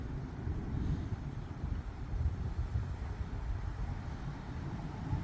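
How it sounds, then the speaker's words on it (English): Wind picking up before a storm in Oklahoma, a steady, loud roar that buffets the microphone for several seconds with no break. "Wind's picking up too."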